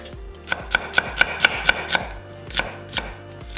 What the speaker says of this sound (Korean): 양파 1개는 반을 갈라서 살짝 굵게 채 썰어